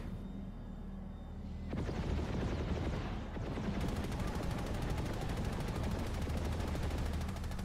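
Rapid machine-gun bursts from a fighter plane in a flight combat video game, beginning after a quieter opening and then running as dense continuous fire over a steady engine drone.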